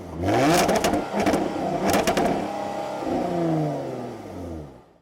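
A white 2014 Jaguar F-Type base model with 340 horsepower pulls away and accelerates, its engine note rising loud and close over about five seconds before easing off, with no talking.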